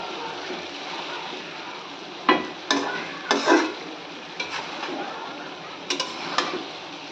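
A spatula scrapes and knocks through kochur loti (taro stolons) with shrimp and fresh coriander in a frying pan, making scattered stirring strokes over a faint, steady sizzle.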